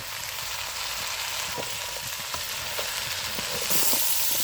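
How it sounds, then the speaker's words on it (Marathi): Spiced vegetables are stirred in a hot frying pan, with a steady sizzle and scattered soft scraping clicks, close and alone, the sizzle swelling louder near the end. "सगळं हे असं हलवून घ्यायचं, एक जीव होतो आणि सगळीकडे मसाला लागतो."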